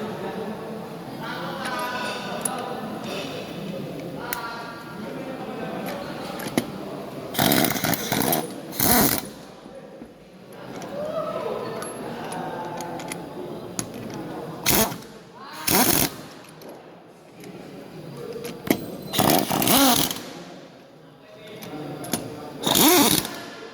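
Wheel bolts are tightened one at a time in a zigzag order, producing short, loud mechanical bursts of a power tool at irregular intervals. A voice talks between the bursts.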